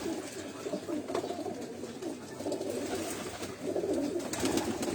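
Several pigeons coo in a breeder's loft, with overlapping low throaty calls rolling continuously at close to moderate distance and no talking.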